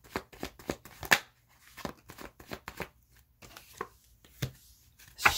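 Tarot cards shuffled by hand during a reading, a quick run of soft riffling snaps and papery flutters in irregular bursts, close and alone with no talk.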